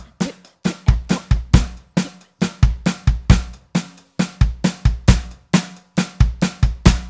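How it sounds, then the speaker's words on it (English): A drum kit plays a steady, upbeat 1960s Motown groove with punchy kick and snare hits in a tight repeating pattern, loud and close, with no voices. "this one that I'm going to show you now definitely stands out as a typical Motown beat"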